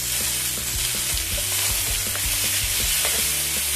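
Beef for Peruvian lomo saltado sears over high heat in a pan, giving a loud continuous close-up sizzle with bursts of crackling and clattering stirs throughout.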